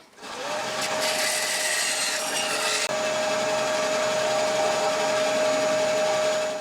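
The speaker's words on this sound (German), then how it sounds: "Und jetzt schneiden wir diese Rundung hier, die schneiden wir an der Stichsäge ab." Jigsaw cutting a rounded edge in a small plate, a loud, steady close whine with a buzzing blade that runs the whole length after a brief start-up.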